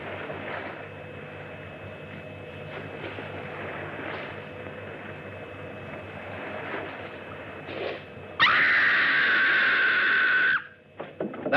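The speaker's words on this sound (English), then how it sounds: "That was a scream." A woman screams in the horror film Horrors of Spider Island: a loud, sustained shriek of about two seconds bursts out abruptly after low murmuring background sound, then cuts off.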